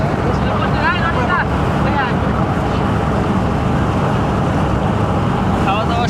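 A riverboat engine drones loud and steady on a river outing, mixed with heavy wind buffeting the microphone and a crowd chattering in the background.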